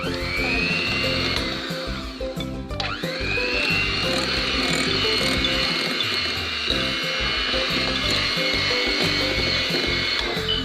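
A kitchen blender whirs loudly while blending a flour and oat mix, briefly cutting out and restarting with a rising whine, then running steadily at close range.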